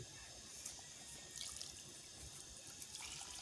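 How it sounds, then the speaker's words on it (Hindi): Water added to a pot of aloo gosht curry after the masala is fried, a soft, steady trickle and pour with faint splashing, close and quiet throughout. "तो अब इसमें पानी शामिल कर रहे हैं जी, ये शोरबा बनेगा इसका आलू गोश्त शोरबा जी।"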